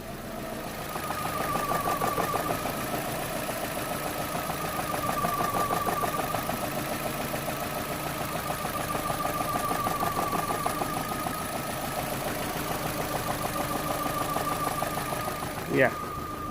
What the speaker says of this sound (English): not struggling to hold the revs, but it is definitely surging.